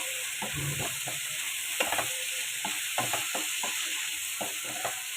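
Prawns fry in oil in a pan for a prawn and raw banana curry, an even background sizzle punctuated by rhythmic scraping and clattering stirs from a spatula, close and moderately loud.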